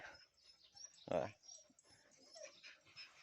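A dog gives a single loud, sharp bark partway through, standing out against quieter background talk and household noise.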